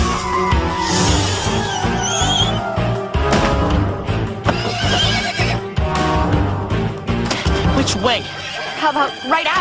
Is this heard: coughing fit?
no